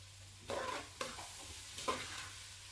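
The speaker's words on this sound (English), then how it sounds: "Allow this to fry a little bit." Fish and carrot sauce frying in a pan, a soft sizzle under three quiet stirring scrapes spaced about half a second apart, close but faint, with no talk.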